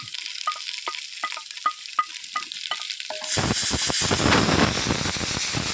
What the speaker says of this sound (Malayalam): നമുക്കിനി സവാള ഇട്ട് എല്ലാം ഒന്ന് ചേർത്ത് വഴറ്റി വെക്കാം